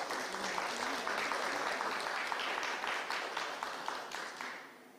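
Audience applause for the candidates at a 2020 Magelang mayoral election debate, sustained crowd clapping at moderate distance that gradually tapers off, with a faint voice underneath.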